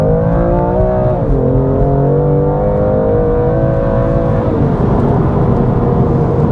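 A BMW M2 Competition engine revs steadily and loudly, pitch climbing then dipping as it shifts, a continuous close-up drone with no talking.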